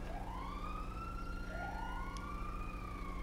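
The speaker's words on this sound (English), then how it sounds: "Looks like we have an ambulance inbound." Ambulance siren wailing in a highway patrol roleplay game, rising and falling sweeps repeating steadily over a low engine rumble, fairly close and alone without talk.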